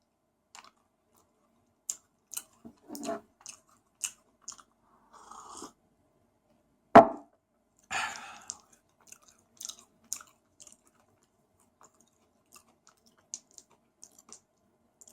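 Crunchy chewing and biting of Swedish Easter candy eggs, close and quiet, in scattered bursts with one loud crunch midway and soft mouth clicks between, no talking.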